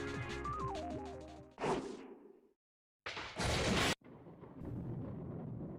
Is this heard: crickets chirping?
no